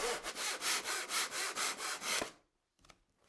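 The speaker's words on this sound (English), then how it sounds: "The beams can, of course, also be cut with a handsaw," A handsaw cuts through an unfinished wooden ceiling beam in about eight quick, rhythmic rasping strokes, close and clear, then stops, followed by near silence and a couple of faint knocks.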